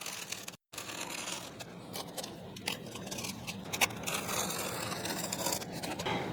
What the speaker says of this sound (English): I'm going to go ahead and extend the knife out for the full depth of the tool. And then I'm going to come and cut on the inside of my lines.